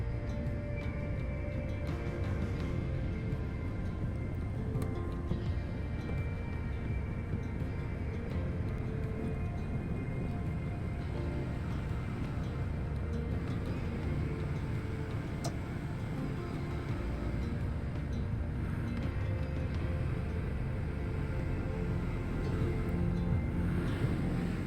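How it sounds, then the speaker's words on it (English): A skid steer pushes a steel shipping container across a leveled dirt work area, its diesel engine rumbling steadily and loudly throughout with scraping and clanking from the load, and no talking. "Shad used his skid steer to push the container into the leveled section that he prepared"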